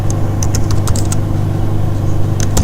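Fingers typing text on a computer keyboard, a run of close, crisp key taps in short clusters over a steady low background hum.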